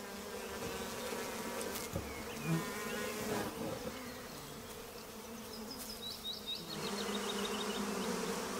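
A steady, dense buzzing of many bees around a hive fills the air, close and continuous, with individual insects droning past now and then.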